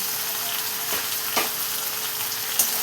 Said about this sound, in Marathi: मी छान परतून घेतले म्हटलं मुगाची डाळ आणि कांदा करून घेतला